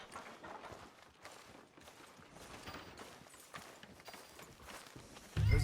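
Horse hooves clip-clop at a steady walking rhythm in the open-world western game Red Dead Redemption 2, set against ambient game sound with no talk, followed by a louder low-frequency thump at the very end.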